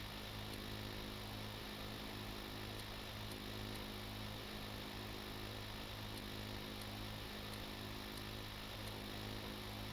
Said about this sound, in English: now we're drilling